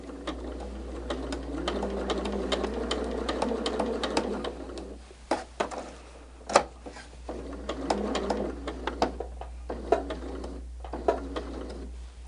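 A sewing machine stitches quilt pieces for a stained glass quilt top, running in quiet rapid bursts of ticking needle strokes, pausing briefly and starting again with occasional sharper clicks.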